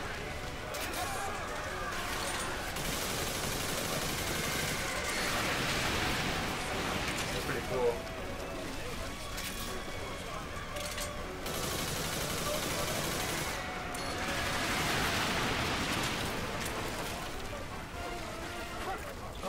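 Rapid machine gun fire from an Air Raider weapon in the video game Earth Defense Force 2025, a steady dense rattle lasting the whole stretch with swelling bursts, heard under ongoing talk from players.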